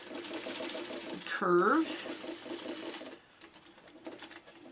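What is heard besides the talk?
sewing machine stitching a curve along a seam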